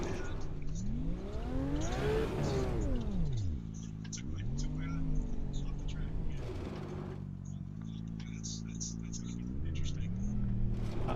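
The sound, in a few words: Porsche race car engine in video game Assetto Corsa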